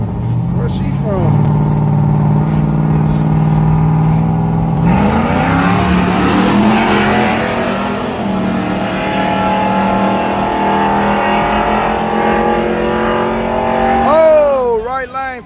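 Ram TRX and an LS-powered Camaro drag racing down a track, loud engines roaring and shifting through gears across the whole stretch, with people talking over the noise.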